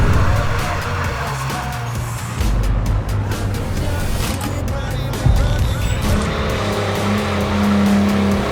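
Race car engines drone and rise while tires squeal through corners, a continuous loud motorsport roar with sharper tire screeches in places.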